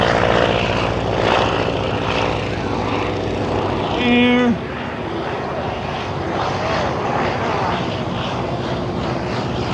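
Biplane at an airshow flying circus in Bealeton, Virginia, its propeller engine droning steadily throughout under continuous crowd chatter and a loudspeaker announcer, with a brief higher whine near the middle before the drone settles slightly quieter.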